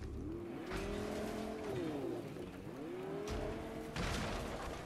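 A car drives and drifts in the video game Fortnite, its engine note rising and falling in sweeping revs, with tire squeal and skidding bursts close up and no voices.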